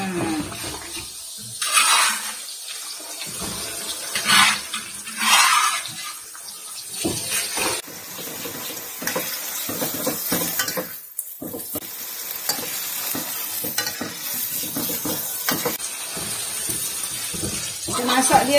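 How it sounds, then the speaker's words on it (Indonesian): Sambal hitam stirred and frying in a pan with softened onions over medium heat, a steady sizzle broken by scraping stirs and louder bursts, with a person talking at times. "sekarang kita masukkan sambal"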